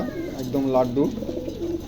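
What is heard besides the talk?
pigeons cooing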